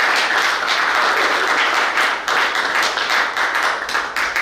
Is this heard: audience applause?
yes